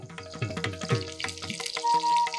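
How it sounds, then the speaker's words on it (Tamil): Mustard seeds, cumin and curry leaves dropped into hot oil in a pan, a loud close sizzle with crackling spatters that stays steady throughout. "இந்த பக்கம் பேனில் எண்ணெய் விட்டுருந்தோம், அது நல்லா காஞ்சிருக்கு. இப்போ கடுகு, கொஞ்சம் சீரகம், கருவேப்பிலை,"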